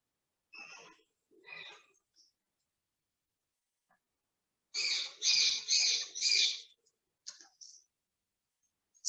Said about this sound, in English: So many birds around me. So I'm so sorry for these noise.